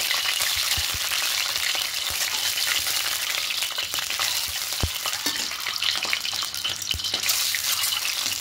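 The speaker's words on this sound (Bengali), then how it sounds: "এবার তেল দিয়ে তেলের মধ্যে ডিমগুলো দিয়ে হালকা করে ভাজবো" Eggs frying lightly in hot oil in a wok on a stove, a loud continuous sizzle and crackle with occasional sharper pops, close up and steady throughout, with no talking.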